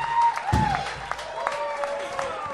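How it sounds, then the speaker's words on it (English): At a comedy club, a crowd claps and cheers for a stand-up comedian in a lively, sustained burst, while voices speak over the applause. "the crowd's going crazy for William Montgomery"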